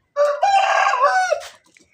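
A village chicken gives a single loud, close, drawn-out crowing call that ends with a short trailing note, with no other sound around it.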